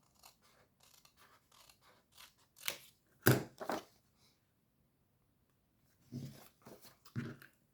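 A few short snips of scissors cutting paper for a plate decoration, quiet and close, spaced unevenly with a louder pair of cuts in the middle and two more near the end.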